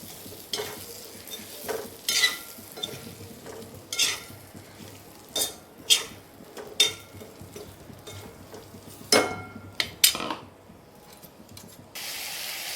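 Masala-stuffed chillies fry in hot oil in a pan while being stirred gently, giving a steady sizzle broken by repeated scraping strokes and clinks of the spoon, fairly close, with no voices.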